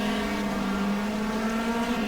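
Race car engines from the GTR2 video game at Phillip Island scream at a high, steady pitch, a loud continuous whine with no talk over it.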